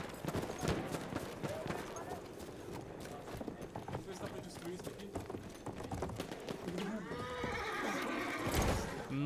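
A cavalry horse in the World War I shooter Battlefield 1 whinnies loudly and gallops with clip-clop hooves in the middle of combat noise, while a player talks over the action.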